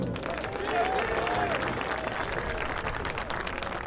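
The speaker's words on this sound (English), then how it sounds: "give a round of applause for Andrew Tuesday" Fans at a cold, rainy college football Senior Day and homecoming game applaud a player, a fairly distant crowd clapping with a faint announcer voice and whistle-like tones mixed in.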